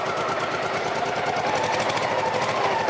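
A cold Honda PC-800 motorcycle engine idles while warming up, a close, loud, steady rapid mechanical thrum with a fine regular knocking pulse and no voices.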